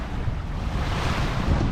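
Gusty wind buffets the microphone over rough waves at an oyster-covered shore, a dense low roar that is loud and continuous.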